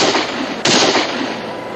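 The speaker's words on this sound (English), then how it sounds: "Shots are coming from the garrison" A loud, continuous crackle of distant popping shots fired from a garrison, with a sharp louder report partway through.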